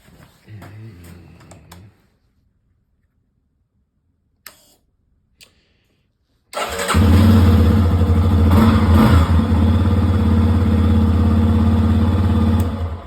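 A Yamaha XT250 motorcycle, just back from spark plug maintenance, is preceded by a few clicks and quiet gaps, then its engine catches and settles into a loud, close, steady idle that runs to the end.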